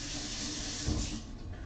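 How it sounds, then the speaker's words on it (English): Food sizzles in a hot pan on a vegetarian sandwich cook, a steady soft hiss with a faint crackle, moderately close and alone. "you can hear the sizzle already"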